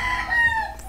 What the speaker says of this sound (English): Fuck these chickens, man.